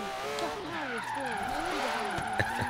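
Tires squeal and skid as a car drifts in Forza Horizon 3, the engine note sweeping up and down continuously with a sharp thump near the end.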